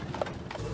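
Horse hooves clip-clopping at Euro Disney in France, where horses pull carriages and carts; a short run of a few hoof strikes on hard ground, moderately near, with no talk.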